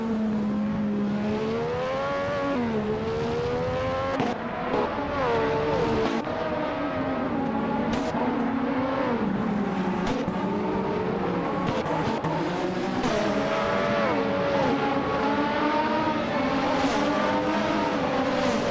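Tyrrell 017 Formula One cars from a 1988-season racing video game, engines whining and shifting pitch as they lap a short track with tight corners, a steady loud drone of several cars throughout, no voices.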